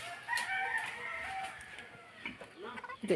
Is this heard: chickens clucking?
yes